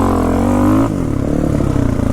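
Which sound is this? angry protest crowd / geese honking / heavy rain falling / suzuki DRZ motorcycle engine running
suzuki DRZ motorcycle engine running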